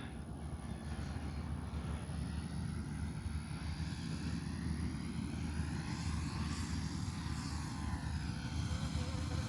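An Avios Extra NG radio-controlled model airplane flies overhead. Its engine gives a steady, loud, buzzing drone with a pitch that sweeps as the plane passes, over outdoor rumble.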